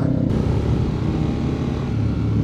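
A Honda X-ADV 750 motorcycle fitted with a Leo Vince LV Pro carbon exhaust, a steady low engine rumble while riding, close and continuous with no talking.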